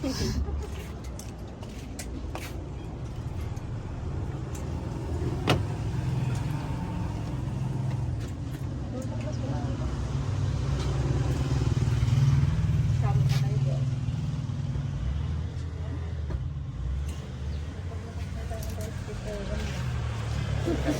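A motorized tricycle engine rumbles past amid busy street ambience, a low drone swelling to its loudest midway and then fading, while people talk nearby.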